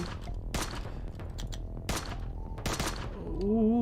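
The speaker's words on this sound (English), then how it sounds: "Ooh, 2 shots." Several sharp, punchy gunshots crack in quick bursts in the sci-fi video game Heat Signature, layered over game ambience and ending with a rising electronic tone.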